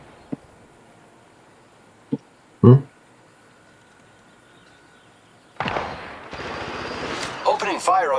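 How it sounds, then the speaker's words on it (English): Video game gunfire: a few isolated sharp shots, then a louder burst, and after a quiet gap a heavy continuous rattle of fire with overlapping shots toward the end, fairly loud and close. "Opening fire on the enemy."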